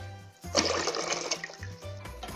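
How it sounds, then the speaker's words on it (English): Cold water pours from a kitchen tap into a saucepan of eggs, a steady rushing splash that starts abruptly and fades after a couple of seconds. "I'll just go ahead and cover my eggs with cold water"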